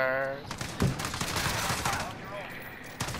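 FAL rifle gunfire in a video game comes as a burst of loud, sharp shots with further scattered reports over several seconds, mixed with players talking over voice chat.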